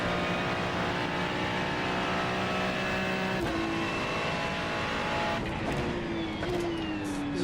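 Race car lapping the Nürburgring Nordschleife during qualifying for a four-hour endurance race, its engine droning loud and steady at high revs, with a few pitch shifts as it changes gear.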